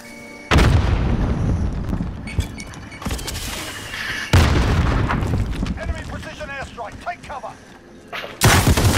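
A frag grenade blows up in a video game with a loud heavy boom, followed by a burst of gunfire and a second booming blast near the end, with voices talking in between.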